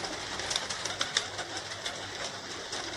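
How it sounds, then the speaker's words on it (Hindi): Pakistani pigeons coo softly over a steady wash of background noise, with scattered short calls and a few soft wing flutters. "देख लो कबूतर कैसे लगते हैं कबूतर"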